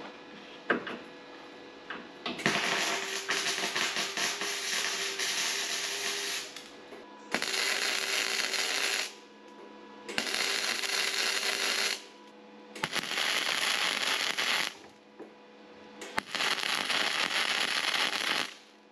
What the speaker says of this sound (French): Donc je vais les souder de derrière déjà ceux-là.